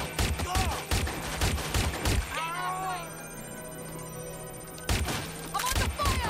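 Video game gunfire in Watch Dogs: Legion comes in rapid automatic bursts, loud and close, with a brief lull in the middle before the shooting resumes; voices shout through the gaps.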